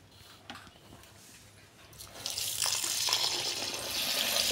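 Basmati rice, about 1.5 kilos, is washed in water for biryani: quiet splashing and handling at first, then a steady rushing stream of tap water that keeps running to the end.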